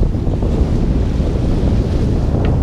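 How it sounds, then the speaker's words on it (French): Sea swell slaps against a sailboat's bow on open water as steady wind buffets the microphone, a continuous loud rush with no break. "Ah, la houle, elle vient devant, là. C'est pour ça elle nous freine."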